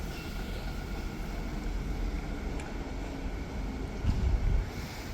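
Strong wind blowing before dawn, a continuous low rumble buffeting the microphone with a louder gust near the end.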